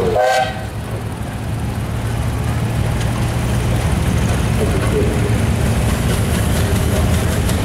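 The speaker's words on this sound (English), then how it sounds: "this is a 9M Ford, 1940" A 1940 Ford 9M tractor engine running in a steam and gas show parade, a steady low rumble that holds close and loud throughout after a brief sharp onset.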